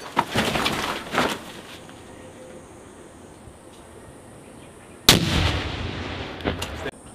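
Two hand grenades thrown on a Marine training range explode in sharp, loud blasts with rumbling tails, one early and one later after a quiet stretch.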